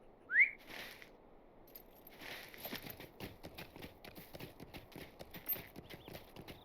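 A horse in Lord of the Rings Online clip-clops along in the Shire, a quick steady run of hoofbeats coming after a brief rising whistle, with no talk over it.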